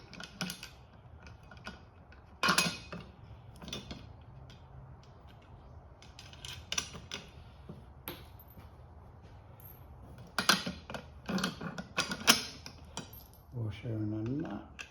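A washer and nut are fitted onto the mounting of an Autotecnica seat for a Mini, with sparse light metallic clinks and taps, a few sharper clusters, and faint handling noise in a quiet room.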